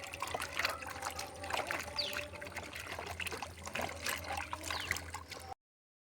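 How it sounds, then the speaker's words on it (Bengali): Water trickles and pours steadily as Malabar spinach stalks are washed by hand, a close, continuous splashing stream with small clatters, cutting off abruptly near the end. "এখন পুঁইশাক ডাঁটা ধোয়া হচ্ছে"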